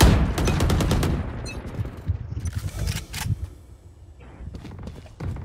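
Rapid gunfire in Valorant crackles in dense bursts for about two seconds, followed by scattered single shots, thuds and footsteps, loud and close, with no voices over it.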